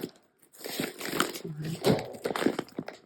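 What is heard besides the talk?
unwrapping a Christmas swap parcel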